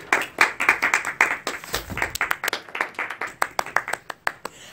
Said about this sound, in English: I jumped up so quick there wasn't much time for applause.